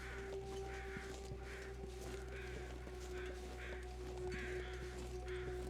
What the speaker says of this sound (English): I can hear the crows.